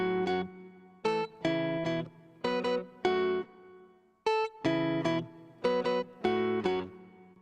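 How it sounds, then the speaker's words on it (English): Clean electric guitar playing short chords and notes in a mixing session, with reverb set to a longer pre-delay so each note starts dry before the wash follows, quiet and isolated with brief pauses. "let's use a little bit of pre-delay, create a gap between when the guitar plays and when the reverb actually activates"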